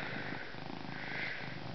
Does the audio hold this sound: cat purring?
yes